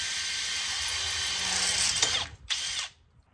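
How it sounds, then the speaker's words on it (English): Power drill boring with a 4mm bit into a double gate during a latch installation: a loud, steady high whine for about two seconds, then a brief stutter, a short final burst and the motor winding down to silence. "Take your drill and 4mm drill bit and have at it."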